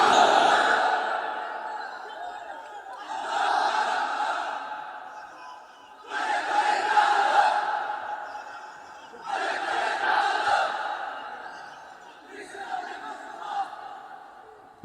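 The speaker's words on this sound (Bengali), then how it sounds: "তাকবীর পড়েন তো দেখি, যারা চলবে বলতেছেন লিল্লাহি তাকবীর" Crowd at an Islamic sermon chanting takbir in loud collective bursts, four to five swelling shouts of many voices spaced a few seconds apart, filling the room.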